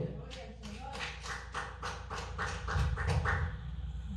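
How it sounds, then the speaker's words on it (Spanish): Church congregation clapping in a quick, regular rhythm, a string of evenly spaced claps with voices mixed in underneath, moderately loud and growing slightly fuller toward the end. "Denle un aplauso al Señor."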